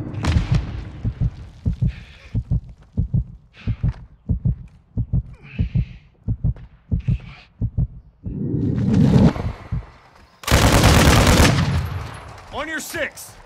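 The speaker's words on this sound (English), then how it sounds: "Taking effective fire" Call of Duty: Modern Warfare II gunfire: a long run of rapid, evenly spaced shots, then a louder burst and a blast near the end, with a radio-style voice briefly heard.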